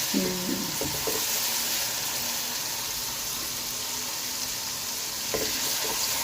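Ginger-garlic paste and tomatoes fry in a pan for an aloo moongre dish, giving a steady loud sizzle throughout with a few stirring scrapes near the start and again near the end, and no talk.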